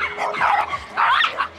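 Several dogs bark and yip close by at a dog gathering, loud and excited, in two quick bursts with brief pauses between.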